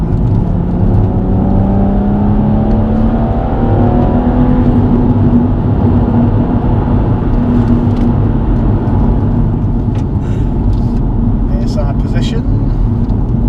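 A car overtakes another vehicle on a Scottish road, its engine droning loudly and steadily from inside the cabin while the pitch climbs and holds through the pass.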